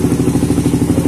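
An aging motorcycle with a PWK PE carburetor runs just after starting, its engine rattling loudly because the oil is slow to circulate, with rapid, even, close-up thumping pulses.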